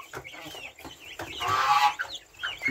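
A box of free-range chicks peeps constantly in thin, high overlapping chirps, fairly close and busy, with a louder cluster of calls midway and no talk.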